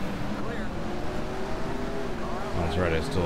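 Race car engines in the NASCAR Racing 2003 video game during a Dirt Late Model race at Fonda Speedway: continuous loud droning motor roar with shifting pitch, a second engine rising near the end.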